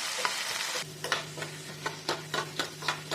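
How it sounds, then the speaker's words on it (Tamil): Pirandai (adamant creeper) stirred in generous oil in a pan, with a steady sizzle of frying under a run of regular scraping, stirring strokes, close and fairly loud. "நல்லா வந்து கொஞ்சம் எண்ணெய் தாராளமாகவே ஊற்றி வறுத்துக்கோங்க"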